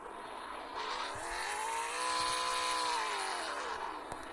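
Engine of a car, a Passat, driven in the Roblox game Türk haven, revving smoothly with rising then falling pitch, steady and moderately loud, with no talk over it.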